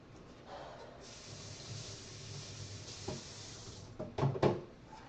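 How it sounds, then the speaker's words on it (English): Water from a tap splashes and sprays over the outside of a container used for yarn dye, a steady hiss at close range with a few louder knocks and splashes near the end. "I need to rinse off the outside of this container"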